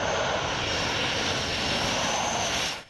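Carrier aircraft engine roaring during field carrier landing practice near Atsugi, a loud steady broadband jet roar held at full strength throughout, fading slightly at the very end, with no voices.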